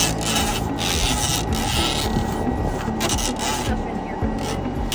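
A brush scrapes and rasps steadily against the inside of a clogged dryer vent, dislodging lint in a continuous close-up rubbing sound with no pauses.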